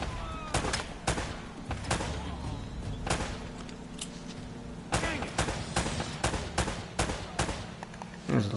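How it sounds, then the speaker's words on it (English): Loud, sharp gunshot blasts ring out in Uncharted: Drake's Fortune, an irregular series of about a dozen reports, some in quick clusters, with faint voices underneath. "Is there a guy shooting with the shotgun enough"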